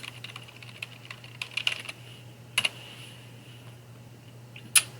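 Sparse, faint keystrokes tap on a computer keyboard while text is typed into a word processor. The clicks are scattered and irregular over a low background hum, with a few sharper taps standing out.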